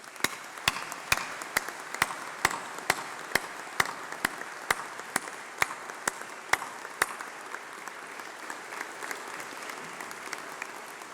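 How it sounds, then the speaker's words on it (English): A graduation ceremony audience applauds in a large hall, with a sustained wash of clapping and a sharp, regular striking sound repeating roughly twice a second through the first part before fading. "let's have a round of applause for all those special people"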